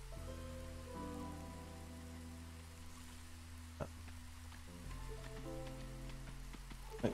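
Drizzle rain in the video game Against the Storm, a steady soft patter under sustained low musical tones, with a couple of brief sharper ticks breaking through.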